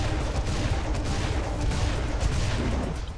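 Dense, continuous gunfire from enemies in the video game Serious Sam 3, rapid overlapping shots and booms forming a steady barrage with no speech.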